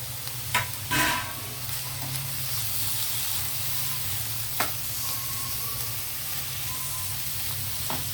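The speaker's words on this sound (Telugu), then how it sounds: "అయితే ఇప్పుడు ఆనియను, చిల్లీస్, ఆనియన్ వేసేద్దాం." Onions and chillies sizzle steadily in a hot frying pan for chilli chicken fry with capsicum, a continuous close hiss with a couple of brief stirring clatters near the start.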